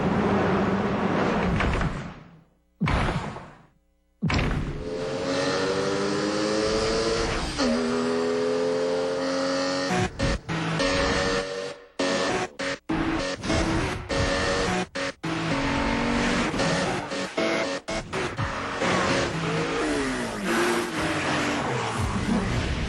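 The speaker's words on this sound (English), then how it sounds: "The all-new Boxster. Porsche." An all-new Porsche Boxster sports car revs hard and climbs through its gears, with quick cuts between bursts of engine noise and rising whines. The engine sounds loud and close, and no one speaks.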